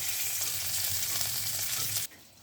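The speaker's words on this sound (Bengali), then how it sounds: "বাকি দুটো টুকরো একইভাবে ভেজে নেবো" Pieces of sarpunti fish frying in hot oil in a pan, a loud, dense, close sizzle that runs evenly and then drops abruptly to a quieter hiss near the end.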